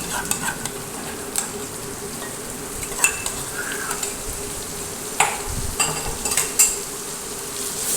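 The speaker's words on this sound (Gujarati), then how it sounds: "એને પણ આપણે બરાબર તેલમાં પકાવી લઈશું જેથી કરીને મસાલા અને લસણ સારી રીતે તેલમાં સંતળાઈ જાય" Okra frying in oil with spices and garlic chutney, a steady close sizzle with scattered clinks and scrapes of stirring throughout, no voices.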